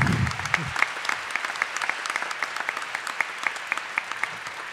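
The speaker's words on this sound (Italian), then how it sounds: "un applauso se lo meritano." An audience at a public event on vaccine mandates applauds the organisers, a dense, steady round of clapping with sharper individual claps standing out near the microphone throughout.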